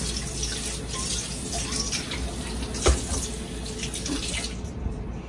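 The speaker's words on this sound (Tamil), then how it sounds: "அப்புறம் இந்த தண்ணியை ஊத்திடுறது கீழே." Water is poured down a kitchen sink after washing vegetables, a steady broadband splash and gurgle running unbroken for about five seconds, with one brief louder slosh midway before it tails off near the end.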